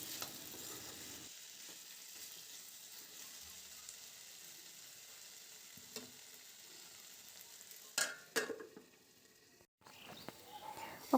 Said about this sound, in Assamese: আৰু এইখিনি গোটেইখিনি মই লৰাই পেলাই আকৌ অকণমান টাইমৰ কাৰণে ঢাকন দি ৰাখি দিম।